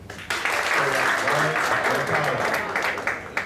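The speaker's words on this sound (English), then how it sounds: "we'll give one round of applause for everybody" Audience clapping for cadets at an awards ceremony, a steady round of applause that starts abruptly and holds at even strength for about three seconds, fairly close, with no talk over it.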